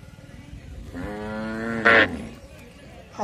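At a busy village cattle market for bulls, a bull lets out one long, low, loud bellow lasting about a second, with another call starting as the clip ends.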